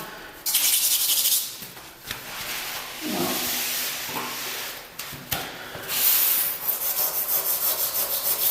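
A slightly abrasive pad scrubs grout haze from terracotta floor tiles, giving a steady, close, hissing rub that rises and falls in long strokes with brief pauses, and no talking.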